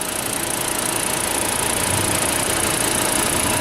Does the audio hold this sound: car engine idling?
yes